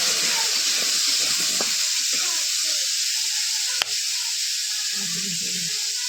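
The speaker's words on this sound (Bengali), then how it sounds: "লবণ দিয়ে খুন্তি দিয়ে নাড়াচাড়া করে নিচ্ছি" Bilimbi with salt stirred by a spatula in a hot pan gives a loud steady sizzle and hiss, with soft scraping strokes and a sharp clack partway through.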